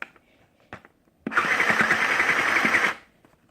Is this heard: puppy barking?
no